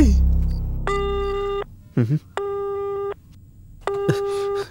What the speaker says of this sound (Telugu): వెళ్తుంది, లైన్ దొరుకుతుంది. తీయండ్రా ఫోన్ని.